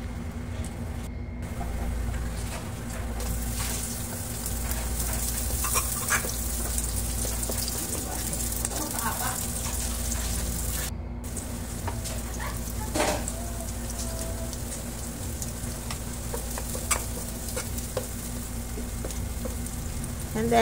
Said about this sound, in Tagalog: mag-saute po tayo ng onion and garlic.